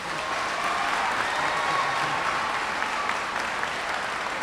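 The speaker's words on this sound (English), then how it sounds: "help me give a round of applause to Senator Bill Cassidy" An audience of students at Haynes Academy applauds for Senator Bill Cassidy, a steady, dense wash of clapping that holds evenly for several seconds with no talk over it.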